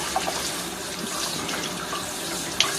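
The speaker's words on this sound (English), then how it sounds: "You let that water run right through it," Lukewarm water running through a potted plant and draining out the base, a continuous close trickle and splash with a small clink near the end.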